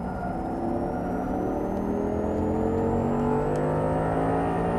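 Audi R8 engine under hard braking and light throttle on track, a steady close drone with slowly rising engine tones and a faint high whine, continuous and unbroken by talk.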